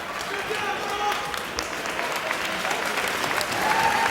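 Clapping from a wrestling crowd during a Ring of Honor match, a dense, continuous patter of many hands filling the arena at fairly close range, with voices mixed in.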